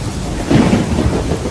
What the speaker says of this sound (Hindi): लेकिन तभी अचानक तेज बारिश शुरू हो गई।